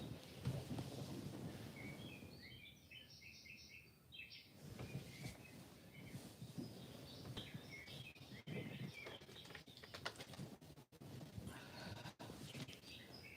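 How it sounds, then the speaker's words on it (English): Small birds chirp and twitter in the early morning, several bright calls in short bursts that come and go, fairly faint, over a low background hum and occasional knocks. "I do have my real birds. They chirp like that too in the early mornings"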